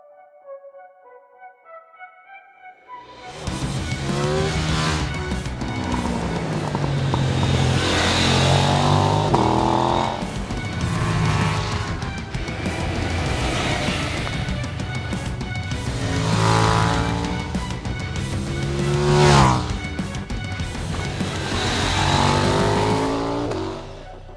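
A KTM 990 RC R sport motorcycle on a race track, its engine note loud and close, rising and falling through repeated revving accelerations and gear changes after a brief quiet start.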